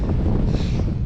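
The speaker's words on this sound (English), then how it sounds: "still very windy" Strong wind roars steadily across an Irish mountainside, buffeting the microphone in a continuous, loud gusty rush with no voices.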